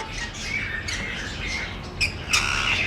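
Blue ring-neck parakeet from a breeding pair in an aviary setup, giving a few sharp, loud squawks, two bursts standing out near the end over a steady background hiss.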